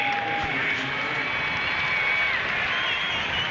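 A home crowd at a South Africa versus England Test cricket match in 2005 cheers in a broad, steady roar filling the whole stretch, with a commentator's voice faintly over it.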